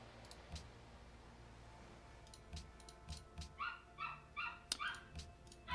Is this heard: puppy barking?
yes